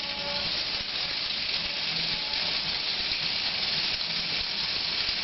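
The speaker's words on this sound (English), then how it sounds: "So you just put it on the hot grill pan." Grilled polenta slices sizzle on a hot grill pan with a continuous, even hiss that stays close and constant with no talk.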